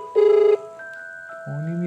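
A phone call on a mobile handset: a short beep tone, then a steady tone, then the ringback tone begins at the end, clear and close.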